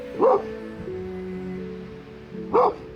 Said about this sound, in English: You barking at a leaf?